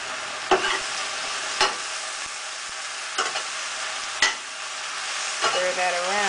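Amaranth leaves wilting and sautéing in a pot are stirred with several sharp scrapes and knocks against the pot over a steady sizzle, with no talking.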